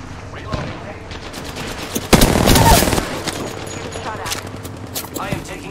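Gunfire in Apex Legends during a squad firefight, a dense rapid burst of shots peaking loudly mid-clip, surrounded by scattered single shots and game effects.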